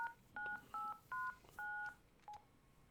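Telephone keypad tones beep one by one as a number is dialed in the game Dr. Langeskov, six short dual-tone presses at an uneven pace, faint and clean over a quiet background.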